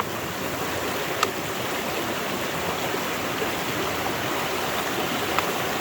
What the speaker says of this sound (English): sort of splashing into those wee rivets, wee bits where everything catches, just washing it down